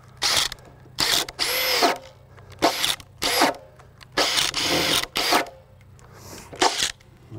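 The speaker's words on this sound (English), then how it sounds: "It's a lot for a drill on high." Makita 40V max XGT brushless hammer drill-driver on high speed, boring into wood with a self-feed bit; loud repeated bursts of motor whine and chewing, each a second or so long, separated by short pauses.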